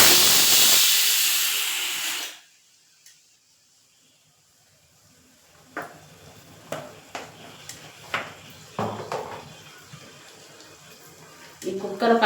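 Pressure cooker on a kitchen stove releasing a loud, sustained steam hiss for about two seconds before cutting off, followed by quiet scattered clicks and clatters of kitchen work.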